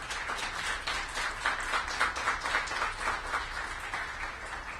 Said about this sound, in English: So let's give Rob a round of applause as well.